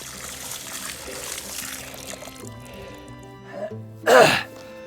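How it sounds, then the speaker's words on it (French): A large watering can pours water onto a newly planted kiwi in a garden, a soft trickle rising into a short, louder gush of splashing near the end. "je vais mettre un grand arrosoir d'eau, ça devrait aller"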